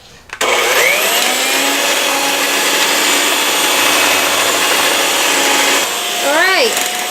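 An electric mixer beating cream cheese for a summer pizza, starting abruptly and running as a loud, steady whine for several seconds before its pitch dips and wavers near the end.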